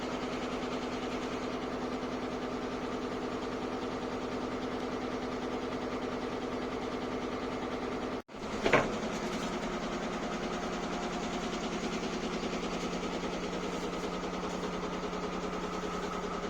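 A BS6 16-wheel truck engine idles steadily with a faint rhythmic tapping, close and constant, broken by a brief clunk midway, with no talking.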